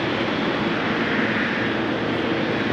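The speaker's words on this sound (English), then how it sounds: "And 777-200 to Minneapolis on the move." A KLM Boeing 777-200 airliner bound for Minneapolis rolls along the ground at a rainy Amsterdam Schiphol Airport, producing a steady, broad engine roar that holds even and loud throughout, with no talk over it.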